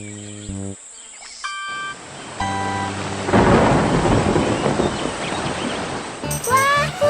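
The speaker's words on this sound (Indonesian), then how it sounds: "Wah, hujan. Ayo buruan berteduh. Duh, hujan dadakan nih." Sudden rain pours down with rolling thunder in an outdoor market setting, a loud steady downpour building after a few short tones and electronic chimes, with brief sound-effect tones again at the end.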